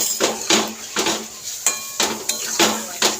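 Taro is stirred with a little water in a cooking pot for a vegetarian kochur dum, a spoon scraping the metal in repeated bursts of clatter, fairly close and moderately loud.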